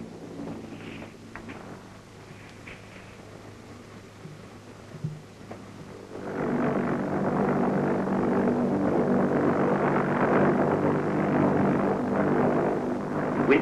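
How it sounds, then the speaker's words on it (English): RAF helicopter passing over an RNLI lifeboat at sea during a rescue exercise, its rotor roar swelling from a faint distant hum into a loud, sustained, close wash of noise. "the helicopter passes over the lifeboat"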